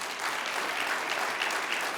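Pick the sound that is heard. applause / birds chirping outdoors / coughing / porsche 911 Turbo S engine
applause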